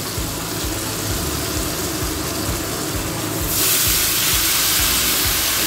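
Spinach greens hit a hot pan with tomatoes already in it, giving a loud steady sizzling hiss that swells suddenly a few seconds in and keeps going.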